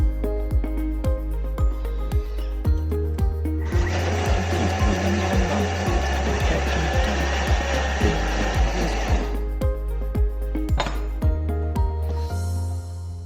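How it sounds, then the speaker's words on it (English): A kitchen blender whirs loudly for several seconds as it blends lemon lavender vanilla butter, starting and stopping abruptly over a steady background of rhythmic clicking. "Just going to blend this up."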